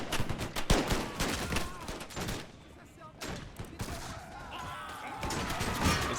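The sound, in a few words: pistol volley fired in video game Empire Total War 2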